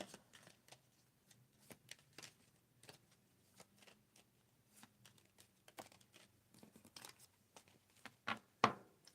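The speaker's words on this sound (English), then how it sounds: "Shuffle, shuffle, shuffle, shuffle, shuffle, shuffle, shuffle, shuffle." Tarot cards shuffled over and over in soft, irregular riffles and flicks, close and quiet, ending in a sharper slap; no one speaks.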